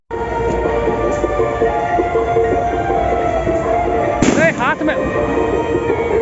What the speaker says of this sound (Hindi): फोड़ लै छी फटक्का